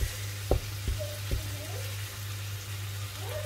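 Ground meat is mashed and stirred while frying in a pan, a faint sizzle running underneath a few soft scraping knocks of a utensil, with a low steady hum in the background.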